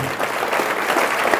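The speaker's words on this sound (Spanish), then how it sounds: "Denle un aplauso al Señor." Church congregation applauding in praise, a dense, continuous wash of many hands clapping together at steady loudness, filling the room with no pauses.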